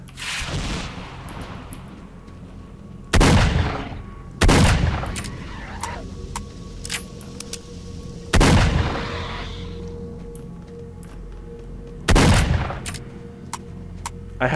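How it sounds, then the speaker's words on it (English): Shotgun slugs fired in the S.T.A.L.K.E.R. Shadow of Chernobyl game, four loud, spaced booming blasts with decaying tails over low ambient rumble and small clicks between shots. "Oh, I've run out of shotgun pellets. I'm firing slugs."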